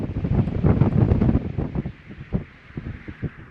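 Wind buffets the microphone in rough low gusts, strongest at first and then easing into intermittent puffs.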